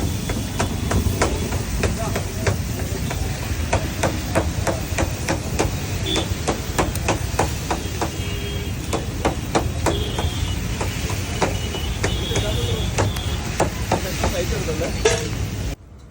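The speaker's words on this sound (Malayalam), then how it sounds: "മിക്സ് ചെയ്ത് ഇനി കൊത്തലിൻ്റെ പരിപാടിയാണ്." Rapid metal chopping of kothu idiyappam with chicken fry on a street-stall griddle at a Madurai idiyappam shop, dense rhythmic clanging strikes close and loud throughout, with voices underneath.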